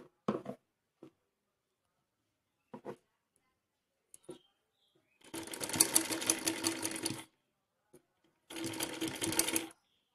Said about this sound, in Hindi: ये जो हमने कपड़ा कट किया था उसको यहाँ पर सिलना है इसके साथ